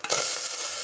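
Chopped onions hit hot butter for pav bhaji and burst into a bright, steady sizzle that swells quickly and holds for under a second.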